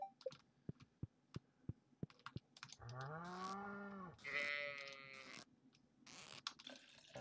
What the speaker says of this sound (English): I'm just trying to milk a cow.